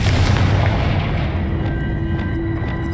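A Confringo blast spell goes off in the Hogwarts Legacy video game, a loud, dense explosive boom with a heavy low rumble that stays sustained and slowly decays across the whole moment.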